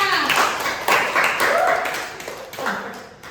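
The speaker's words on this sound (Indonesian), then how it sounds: "Beri aplaus untuk temannya." A classroom of students claps for a classmate, a brief burst of close, uneven handclaps with some voices mixed in.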